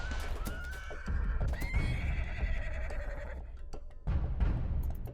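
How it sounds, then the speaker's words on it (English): Loud, agitated neighing and whinnying from a mad horse stallion in the Rimworld video game, several drawn-out calls over heavy hoof clatter and rumbling, with a sharp burst near the end. "Mad Horse Stallion."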